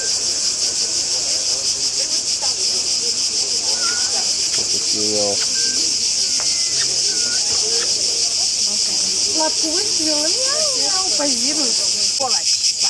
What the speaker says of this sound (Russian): Да, вот эта вот муха большая. Это цикада.